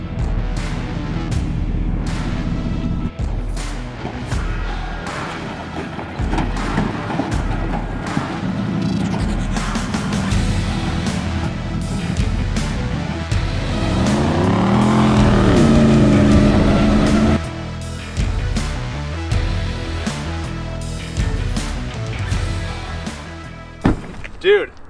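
A truck fitted with a Chase Rack system drives fast off-road, its engine revving and roaring loudly for about twenty-five seconds, with bumps and rattles and people talking over the noise.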